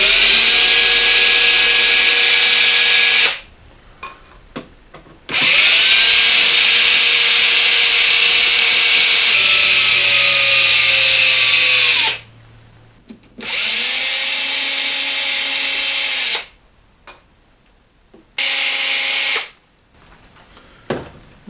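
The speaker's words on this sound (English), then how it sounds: "just 16 screws to take out to get the back off the amp" A power screwdriver removes screws from the back panel of a Vox AC15C1 guitar amp. It whines loudly in several long and short bursts separated by brief pauses, close up with no talk.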